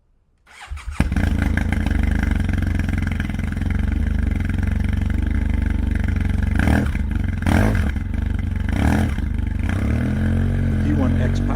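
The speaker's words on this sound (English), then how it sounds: "The P1X power tip seems to have a deeper sound" A motorcycle fitted with a Two Brothers M2 carbon fiber exhaust and P1X power tip starts after a second of quiet, then idles and revs in several loud, deep bursts near the microphone, holding a steady rumble between them.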